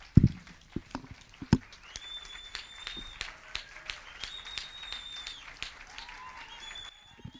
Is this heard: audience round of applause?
yes